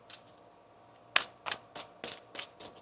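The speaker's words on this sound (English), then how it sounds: "One more shuffle here." Several short riffling bursts of tarot cards being shuffled close up, coming in a quick irregular rhythm over a quiet background.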